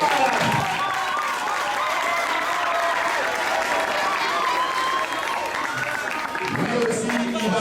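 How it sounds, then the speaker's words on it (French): A crowd applauds at an event welcoming artist Héritier Watanabe: a dense, steady wash of clapping that carries through the whole stretch at even strength, with faint crowd voices mixed in. "on va applaudir très fort pour un deuxième et notre grand ambassadeur de la jeunesse"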